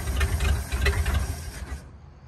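A 1950 Ford flathead V8 flatbed truck engine sputters and runs roughly for under two seconds, heard close, before it dies into silence.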